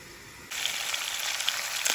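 A sudden loud sizzle breaks out as pieces of pork neck hit a hot frying pan, then crackles and hisses steadily with little pops.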